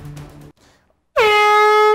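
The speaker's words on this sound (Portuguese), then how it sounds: "Será que era essa buzina aqui, baixinho?" A loud, sustained car horn blast with a strong harmonic tone starts abruptly after brief quiet and muffled sounds, holding steady to the end.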